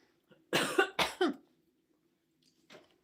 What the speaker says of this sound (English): Always makes me cough when I eat chocolate.